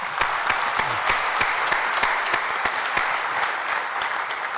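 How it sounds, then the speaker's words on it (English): Audience applause at an onstage conversation event, loud and close, with distinct individual claps in a brisk, steady rhythm across the whole stretch. "Round of applause, ladies."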